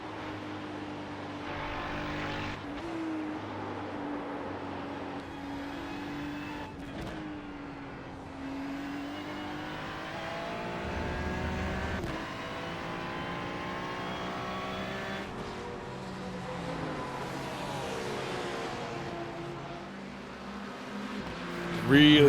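A McLaren race car engine howls down a back straightaway, loud and close, with repeated rising pitch sweeps as it accelerates through gears over a steady drone, while someone talks over it.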